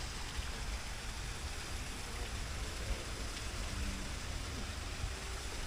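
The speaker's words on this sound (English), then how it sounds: "The noise of the waterfall is always peaceful." A waterfall in the Imperial Palace gardens in Japan gives a steady, even rush of falling water, soft and somewhat distant, running unbroken with no voices over it.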